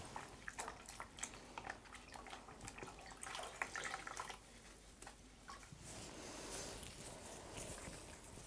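A face is rinsed with water after a peel treatment: soft splashes, trickling and drips, quiet and close, with intermittent bursts over a faint running-water background.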